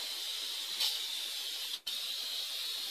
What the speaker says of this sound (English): I'm spraying my can upside down